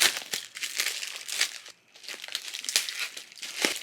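Close crinkling and tearing of a plastic delivery package being ripped open, a steady run of crackly rustles with a brief pause midway.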